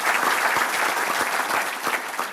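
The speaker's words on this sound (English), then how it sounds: "please give them a round of applause." Brisk audience clapping at a regional chamber annual meeting, a dense, even burst of applause from a sizeable crowd that holds steady for a couple of seconds.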